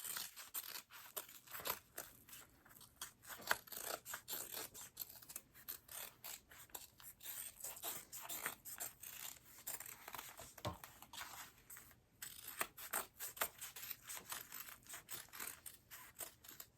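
Scissors snip through uneven fabric layers and stray threads while a barrel bag is sewn with binding, giving a steady run of close, crisp cutting and scraping sounds with no talk.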